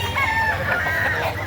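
Chickens and roosters cluck and crow steadily at a Saturday poultry market in Lipa, Batangas, a busy mix of close and distant birds with no talk over them.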